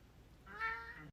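A single cat gives one short, clear meow partway through, faint and fairly close, against quiet room background.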